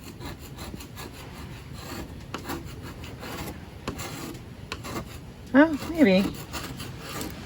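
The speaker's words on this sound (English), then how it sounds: "and started to sand. It's got a lot of flaky paint" Flaky paint is sanded off a wooden door by hand, a steady close rasping rub throughout with a brief spoken word near the end.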